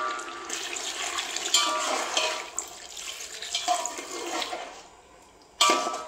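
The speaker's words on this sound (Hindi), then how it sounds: "अब हम इसमें थोड़ा सा पानी डालेंगे।" Water pours into a pot of cooking biryani meat as a continuous rushing splash. It sounds close and fairly loud, drops off near the end, then bursts again briefly with no voices over it.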